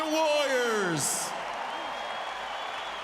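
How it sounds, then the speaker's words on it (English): Arena crowd applauding after a welterweight boxing bout in Las Vegas, a broad, steady wash of clapping and cheering that fills the space, with an announcer's voice at the start trailing off into the noise. "How about a big round of applause for these two valiant warriors?"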